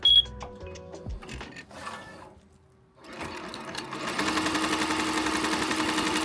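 A Tajima embroidery machine stitches an appliqué tack-down in white thread, starting after a quiet pause and building into a steady, loud, rapid mechanical chatter that runs on without talk.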